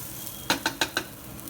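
Okra pieces frying golden in oil, with four quick scraping stirs of a spatula in sharp succession over a faint, steady sizzle.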